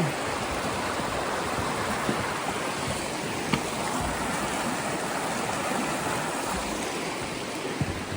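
Steady rushing creek water flows continuously near Crowsnest Pass, Alberta, a broad wash of noise with no pauses and a few faint clicks underneath.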